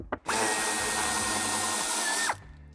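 A power screwdriver whirs in one sustained burst of about two seconds, close and loud, to remove a plastic screw holding the tail light on a 2015-2019 Land Rover Discovery Sport, with brief handling clicks before it starts.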